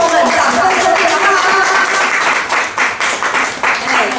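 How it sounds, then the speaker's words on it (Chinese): An audience gives a round of applause for volunteer performers at a Mid-Autumn show for the elderly; the clapping is busy and lively, with voices and some music mixed in beneath it. "所以请大家一定要给志工们掌声鼓励啊"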